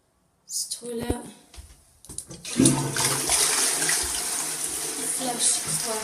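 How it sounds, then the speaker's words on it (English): A toilet in a white-tiled bathroom flushing, a short clunk of the handle followed by a rising rush of water that settles into steady swirling and refilling. "Flush is working"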